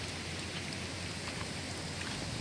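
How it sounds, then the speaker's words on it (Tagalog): Heavy typhoon rain from Typhoon Aghon in Lucena City pours steadily in a dense, even hiss, with no breaks or other sounds. "sa lakas ng ulan na pinamalas nitong bagyong ito no?"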